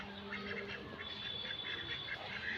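Belgian ducks quack repeatedly in short bursts over a steady background hum, moderately close, with no talking.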